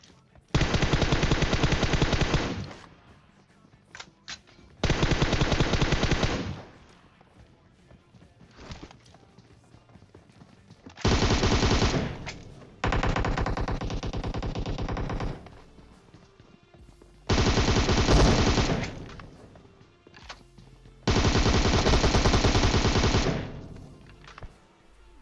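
Bursts of rapid automatic gunfire in PUBG Mobile, each lasting a couple of seconds, separated by short near-silent gaps, with faint scattered clicks between volleys.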